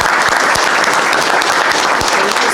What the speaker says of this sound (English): give the chief a round of applause